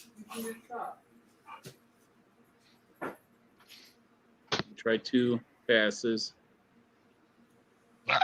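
Dogs whimper and give short barks in scattered bursts around a woodworking session, with people talking in between the yelps.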